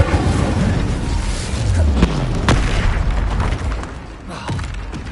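An Incendio fire spell cast in Hogwarts Legacy, a loud booming burst with crackling whooshes and thuds over a dense rumbling game soundscape.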